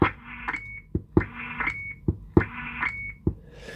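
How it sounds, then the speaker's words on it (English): Three short bursts of radio static from a Cobra 148 GTL-DX CB radio, each closed by a brief roger-beep tone, repeating at a steady pace with sharp clicks between them. "Now we have standard beep"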